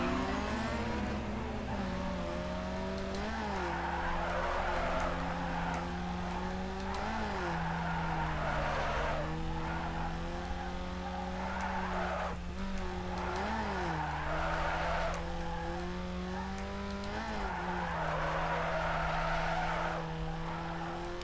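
In Need for Speed Underground 2, a car drifts with its engine droning and revving steadily as its tires squeal in repeated swells for about twenty seconds, loud and close, with no talking.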